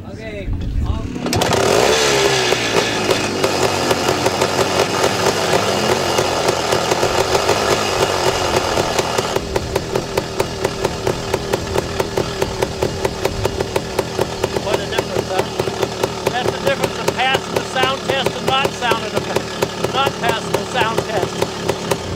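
Vintage enduro motorcycle with an 8-speed gearbox starts up and runs steadily nearby, a continuous mechanical drone at an even idle with faint voices in the background.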